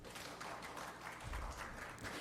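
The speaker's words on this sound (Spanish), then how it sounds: "con un fuerte aplauso" An audience at an academic talk on university scientific journals applauds to welcome a speaker, a soft, steady patter of clapping heard at low volume from a distance.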